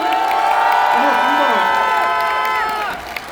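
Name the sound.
applause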